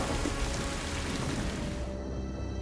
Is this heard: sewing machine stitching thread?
no